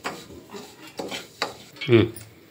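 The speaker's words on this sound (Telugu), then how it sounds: "ఈ రవ్వ ఉంది కదా, గోధుమ రవ్వ, దీంట్లోనే వేసి వేయించేసేయండి" Wheat rava (semolina) is roasted in a pan, heard as a few scraping stirs and metallic clinks of a spoon against the pan, spaced about half a second apart, ending in a louder scrape, with faint voice nearby.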